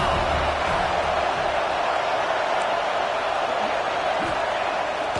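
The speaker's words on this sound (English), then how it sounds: "Decibels rising as the crowd gets behind this defense on third down." Stadium crowd at a college football game (HBCU) roars steadily through a third-down defensive stand, a dense, continuous wash of cheering and noise holding loud from start to finish.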